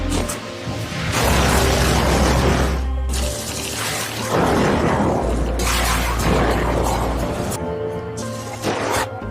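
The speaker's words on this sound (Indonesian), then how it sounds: "tim sniper yang sudah berada di posisinya mulai membidik dan meledakkan sebuah drum minyak milik pasukan Taliban" Explosions from a war film as a sniper's shot blows up a Taliban oil drum: heavy booms and crashing bursts with rumbling low end, several loud blasts in quick succession amid a dense soundtrack.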